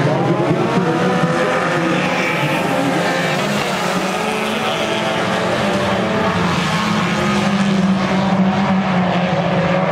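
Hornet class race cars roar around the Lawrenceburg Speedway dirt track during a heat race, a loud continuous wash of engine noise from several cars that rises and falls without a break, with no voices.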